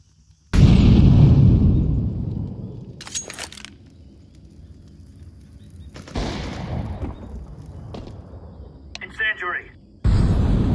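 An incendiary grenade in the tactical shooter Counter-Strike 2, marked by a loud burst followed by a roaring, decaying fire sound, then later sharp bangs and clicks, with brief speech in between.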